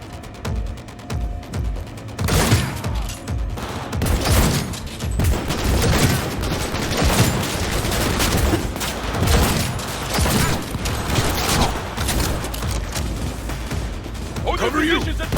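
Sustained volleys of gunfire in the video game Cyberpunk 2077 on Very Hard difficulty, loud overlapping shots and blasts throughout, with voices calling out amid the firefight.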